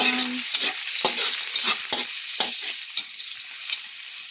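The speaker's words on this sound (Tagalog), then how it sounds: "nagisa na ko na sibuyas, bawang" Onion and garlic sauté in a hot pan for pork mechado, a steady close sizzle broken by a series of sharp scraping stirs roughly every half second.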